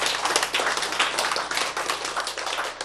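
A church lecture audience breaks into dense, sustained applause, many hands clapping together loudly and steadily throughout, with no talk over it.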